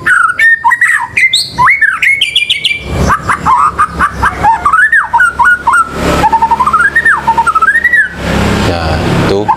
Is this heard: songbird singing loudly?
yes